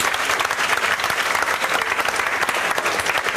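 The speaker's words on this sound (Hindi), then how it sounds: "इसके लिए जोरदार तालियां।" A classroom audience bursts into loud applause for a labourer's daughter, a thick, continuous patter of many hands clapping close by with no voice over it.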